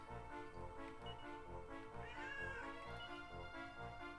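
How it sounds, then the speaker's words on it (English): A pet cat meows softly in a room with music playing from a video game, a few faint drawn-out mews over the steady background score. "there's the kitty cat"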